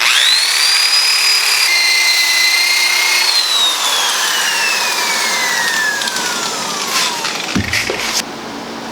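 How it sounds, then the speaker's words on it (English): A wire wheel on a power tool is run along the grain to distress wood, starting with a loud whirring spin-up, then a long descending whine as it bites and slows, with scratchy grinding throughout. "One of the ways you can distress wood to make it look like it's been out in the weather is to go with the grain with a wire wheel."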